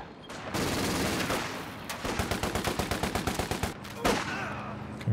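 A Vickers machine gun mounted on a Universal Carrier fires in a Company of Heroes 2 battle, long rapid rattling bursts mixed with other gunfire and a sharp crack near the end.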